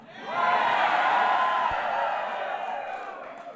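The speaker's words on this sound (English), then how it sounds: "This is a rowdy crowd." A rowdy crowd at a White House event cheers and whoops loudly, a dense sustained roar that swells quickly and then slowly tapers off.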